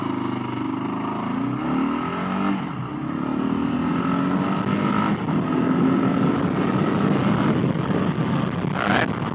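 A Kawasaki KLR650 single-cylinder motorcycle pulls hard from a stop toward 60 mph, its engine note climbing through gear changes under steady wind rush, loud and close without any talking.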